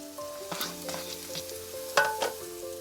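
Shallot frying over medium heat in a pan with vegetables for spicy salt and pepper shrimp, a steady sizzle broken by scraping stirs and a sharp clatter near the end, close and alone with no talk.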